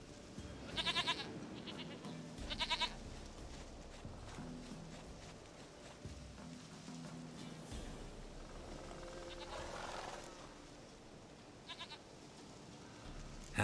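Goats bleating in short bursts from a farm scene in the video game The Witcher 3, two clear calls early and a fainter one later over a low ambient game soundscape with faint footsteps.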